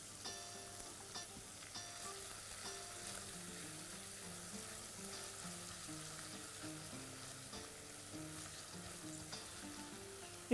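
Minced mint and garlic frying in a pan for rice with potatoes, a steady low sizzle running throughout with faint background music layered over it and no talking.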